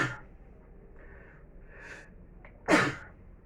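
Someone with a cold sneezes once, loud and close, after a few seconds of snuffly inhales and breathy buildup.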